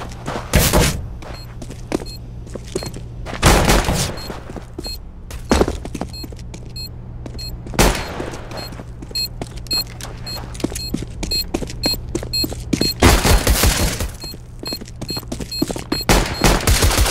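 Rapid gunfire bursts and single shots in a tactical shooter game round with bomb planting, loud and close, firing in dense clusters with brief pauses over a steady low background hum.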